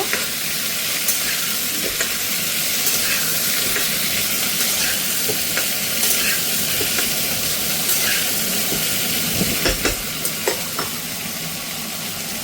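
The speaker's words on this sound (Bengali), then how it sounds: "হালকা একটু ভেজে নেব" Potatoes fry lightly in oil with a steady, close sizzle, punctuated by occasional scrapes and taps of stirring.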